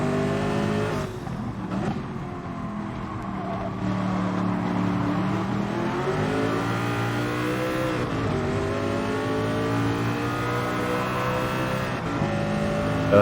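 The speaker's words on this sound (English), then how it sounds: "And the Porsche goes off into the distance" A Porsche race car pulls away into the distance, its engine a continuous loud drone with rising and falling pitch through gear changes, holding steady without voices.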